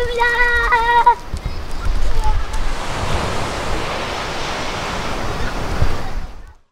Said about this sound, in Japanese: わーい、海だー